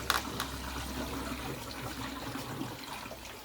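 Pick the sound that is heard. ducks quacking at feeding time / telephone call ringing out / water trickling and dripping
water trickling and dripping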